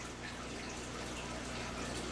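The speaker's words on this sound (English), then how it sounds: "dispense some in the test vial and just rinse it out" Water is dispensed into a small test vial and rinsed out, giving a steady, close hiss of running, splashing liquid that continues without a break.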